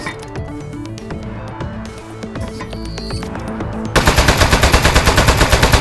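Gunfire in the video game Aperture Desk Job: after a stretch of clinking, whirring game sounds, a rapid, loud, evenly spaced burst of automatic shots begins and continues to the end.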